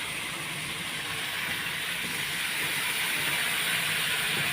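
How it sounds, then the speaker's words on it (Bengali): Rinse water from a mixer bowl poured into a hot pan of potato and paneer curry, giving a loud, steady sizzling hiss that swells slightly and runs unbroken throughout with no talking. "এখন আমি এই যে মিক্সার বাটিটা ধোয়া জলটা দিয়ে দেবো"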